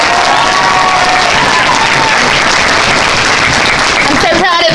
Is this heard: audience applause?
yes